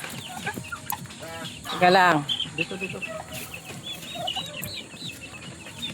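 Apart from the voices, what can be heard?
turkey hen with chicks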